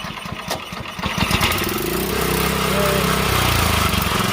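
Small engine on a wheat harvest machine starting up and settling into a steady running drone, close and loud after a few irregular knocks at the start.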